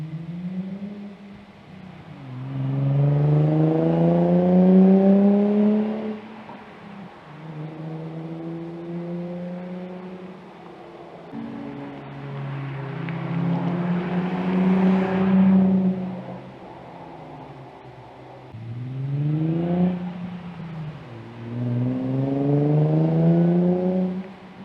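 A Nissan 350Z fitted with an ISR Y-pipe and a single GT exhaust revs from idle several times, heard from a patio. Its deep exhaust note swells and falls in repeated surges, and no one speaks.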